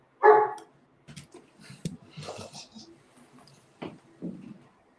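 Dogs barking on a homestead, one loud close bark followed by scattered softer barks and whimpers with some talk in between.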